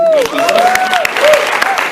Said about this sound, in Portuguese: Você pode aplaudir isso?